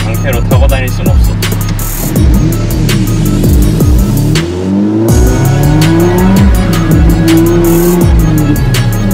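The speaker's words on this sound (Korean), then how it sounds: "이제 핸들을 90도 꺾는 순간 차가 돌아버릴 겁니다." A car with extreme rear-wheel camber set at home spins out on pavement, its tires squealing loudly and continuously in repeated rising and falling screeches up close over engine noise.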